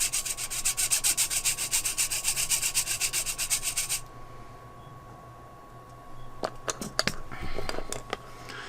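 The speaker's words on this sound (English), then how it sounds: "I'm going to sharpen the purple one too." A Stabilo watercolor pencil being sharpened makes a steady, rhythmic grating scrape for about four seconds, then stops; a few faint clicks and rustles follow.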